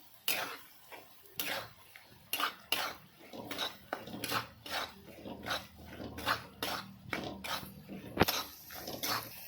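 Semolina roasting in a pan for mango sheera, stirred with a spoon: about a dozen close, irregular scraping clinks of metal against the pan, separated by short quiet gaps.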